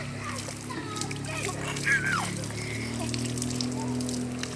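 Running water splashes and flows steadily at a soft to moderate level. A child squeals briefly and voices are heard in the background.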